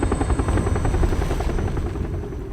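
A helicopter in a Fortnite Season 9 game trailer gives a loud, close rotor chop, rapid and rhythmic thumping that carries steadily, with no voices over it.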